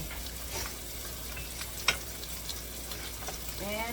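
Food frying in a pan sizzles steadily while being stirred, with a sharp clink of the utensil against the pan midway, close and moderately quiet.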